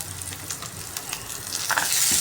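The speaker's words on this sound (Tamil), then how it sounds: "வெந்தயம் செவந்ததும் வெங்காய துண்டுகளை அதில் நம்ம போட்டு" Onion pieces and fenugreek seeds fry in hot oil in a pan, a steady close sizzle with scattered crackles that grows louder toward the end.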